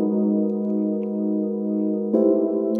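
Sustained synth pad designed in Serum with reverb, a steady harmonic chord held for over two seconds before a brighter, louder swell enters near the end, with no voices.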